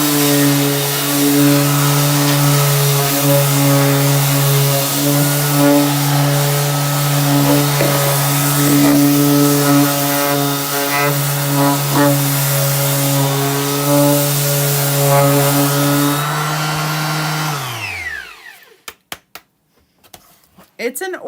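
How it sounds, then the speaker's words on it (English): An orbital sander distressing a wooden pallet sign runs steadily with a loud, sustained motor whine and buzzing hum, then spins down and stops near the end, followed by a few light knocks. "It's an orbital sander versus what I used to have, which was and still is, just a palm sander."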